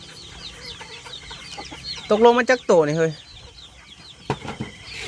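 Farmyard chickens and ducks cluck in short bursts, with a louder squawking run in the middle and scattered clucks after it, over quiet background; someone speaks briefly.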